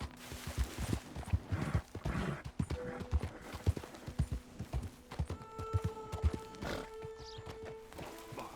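Horse hooves clip-clop at a steady walking rhythm in Red Dead Redemption 2, close and fairly loud, with a brief whinny and a sustained musical drone rising over the hooves.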